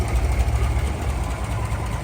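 A 292 Ford V8 engine in a 1955 Ford Thunderbird idles with a low, steady rumble and faint rhythmic pulsing, close and continuous.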